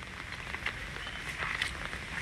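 Rain patters steadily at a graveside, a soft continuous hiss with faint scattered drops, fairly quiet and unbroken by speech.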